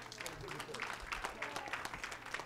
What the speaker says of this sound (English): Let's clap our hands and give him praise.